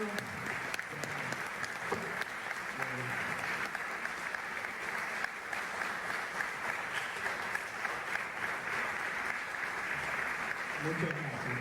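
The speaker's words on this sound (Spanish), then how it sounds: "todos debemos darle un fuerte aplauso" Steady applause from an audience at a UFO congress fills the whole stretch, a dense wash of clapping with a few voices surfacing beneath it.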